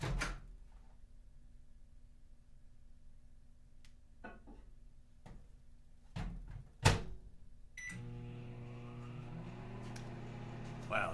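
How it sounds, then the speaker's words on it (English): Microwave oven running to reheat a cooled drink, with a low steady hum and a few clicks and knocks of the door and turntable, then a louder, busier whirring layer that continues to the end. "I'm going to go pop this in the microwave"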